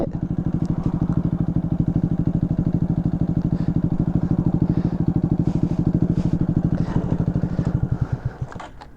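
A Grom motorcycle with about 8,000 miles and its check-engine light on runs close by, its engine thumping in rapid, even pulses that hold steady, then falter and fade near the end.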